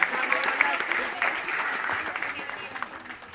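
An audience at a community solidarity gathering bursts into lively clapping, a dense spatter of hand claps that stays fairly loud and steady before easing slightly, with a voice faintly present underneath.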